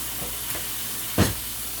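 Bacon frying in a pan for a pizza topping, a steady broad sizzle and hiss close by, with one brief louder burst of spattering partway through and no talk.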